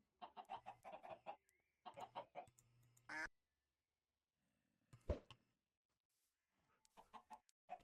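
Chickens and ducks cluck and quack in a modded Minecraft farm, with several short rapid bursts of fowl calls separated by quiet gaps, fairly faint.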